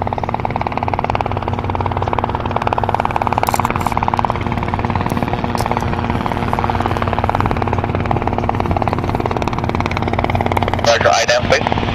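A Robinson R22 Beta II helicopter flies the traffic pattern, its steady engine and rotor drone loud and continuous from inside the cabin, with radio chatter and talk faintly over it.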